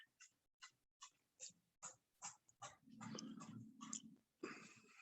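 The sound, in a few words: dog barking indoors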